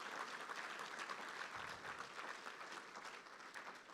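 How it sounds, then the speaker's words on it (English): Audience at a university homecoming gala applauds a building's namesake: sustained, even clapping from a crowd, heard faintly and at a distance. "yes, please applaud."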